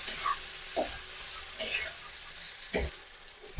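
Beans being stirred with salt and turmeric in a frying pan while preparing a mustard-poppy seed bean dish: a low sizzle with several distinct scraping stir strokes, close by.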